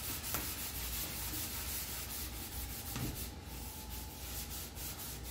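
Sandpaper rubbed by hand over painted wooden furniture to distress the finish: steady, close scratchy strokes with a rough, continuous texture and no talk.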